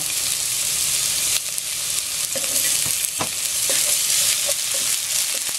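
Ginger hits toasted garlic in hot oil, giving a dense, continuous close-up sizzle with a few sharp stirring scrapes and clicks against the pan.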